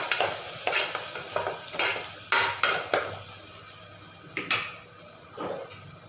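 A curry seasoned with a spoonful of homemade garam masala is stirred in a pan, with a series of distinct, close scraping strokes of the spoon over a faint sizzle.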